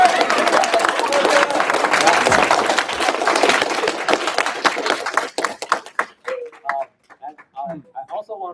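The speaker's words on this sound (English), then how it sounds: "So I think we should give every one of us a round of applause." A small group applauds at the close of a student autonomous driving camp presentation, brisk dense clapping that thins out into a few scattered claps and stops, with voices audible around it.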